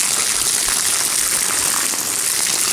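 A steady gush of water pours over young banana plants next to a piggery, a close, loud, constant rushing hiss with no pauses and no talking.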